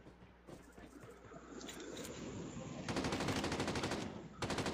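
Gunfire in a Call of Duty match: quieter scattered shots at first, then rapid, dense bursts of automatic fire that stop briefly and resume, fairly close and continuous.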